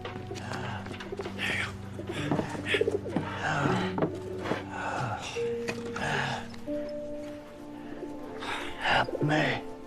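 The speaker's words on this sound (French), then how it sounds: "Les pigeons." Pigeons coo in soft, repeated throaty bursts, mixed with breathy human gasps and vocal sounds throughout.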